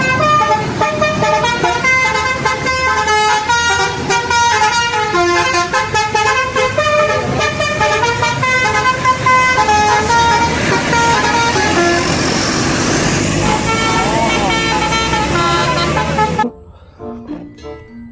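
A Sinar Jaya intercity bus passes close by with loud, sustained engine roar and repeated musical horn tones for about sixteen seconds before cutting off abruptly.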